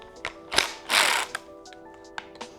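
A 4mm Allen key cracks loose the taillight bolts on a 2024 Yamaha MT-09, giving a few short close metallic clicks and a brief grinding ratchet-like scrape, then small taps, with no talk.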